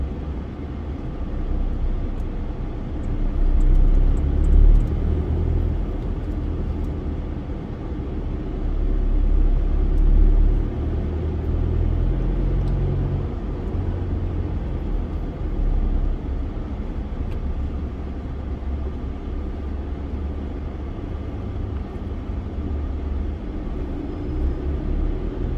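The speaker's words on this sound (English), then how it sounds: "Taking place on the highway here, so it's causing a bit of traffic." Steady low rumble of busy highway traffic, a continuous drone of passing vehicles with slow swells in loudness, no voices over it.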